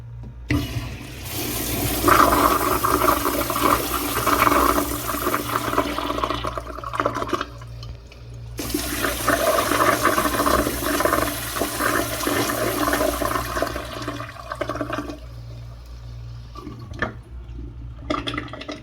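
A 1960s–1990s first-generation American Standard Allbrook urinal flushes twice, its rim jets rinsing the bowl with a loud rushing wash of water that swells, fades, then surges again before tapering off.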